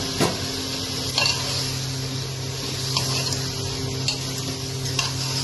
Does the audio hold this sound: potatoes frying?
yes